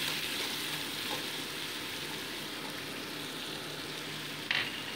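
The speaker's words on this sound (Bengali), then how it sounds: "গোটা গরম মশলা দিয়ে মোটামুটি এটাকে 2 মিনিট ভালো করে আমি কষিয়ে নিচ্ছি" Potatoes frying in oil with whole garam masala, salt and turmeric give a steady close sizzle, with a brief stirring clink near the end.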